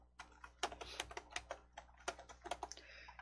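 A computer keyboard is typed on, with a quick, uneven burst of close, light key clicks as a search term goes in.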